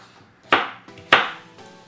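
A knife chops through washed, scrubbed potatoes on a board, giving two sharp, close thuds about half a second apart in a quiet room.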